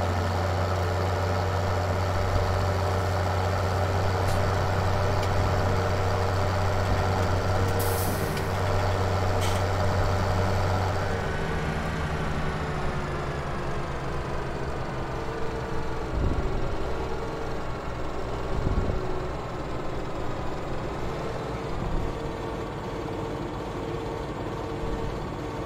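A farm tractor engine runs nearby at a steady idle, with a low droning rumble that shifts pitch partway through, broken by a few sharp clanks and knocks.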